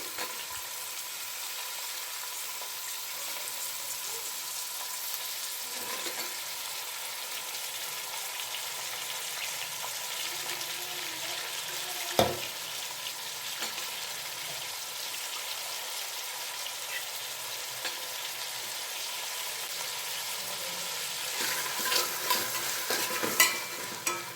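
Carrot, potato and fresh green peas are stirred and fried in a pan for vegetable rava upma, giving a steady close sizzle with scraping stirs that grow busier and louder near the end.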